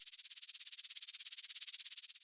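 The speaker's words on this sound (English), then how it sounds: "one cool thing, which is kind of a Meduza classic, is this little stuttering white noise" Stuttering white noise effect made in the Serum synth: a high, hissy burst of noise pulsing in rapid, even chops for about two seconds, heard alone.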